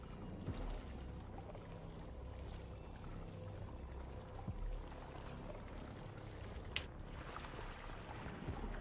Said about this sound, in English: I put the water in here.